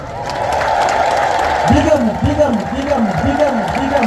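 A church congregation claps along in a steady rhythmic beat during a sermon, several evenly spaced claps over a murmuring crowd, with a voice chanting over it.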